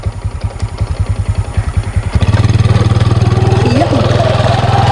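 A motorcycle engine running on a rural farm, loud and close, chugging at a steady idle before the revs rise into a stronger continuous drone, with no talk over it.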